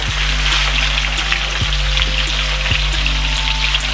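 Pieces of giant snakehead fish frying in hot oil, a dense, steady crackling sizzle with fine popping throughout, close and loud with no voices.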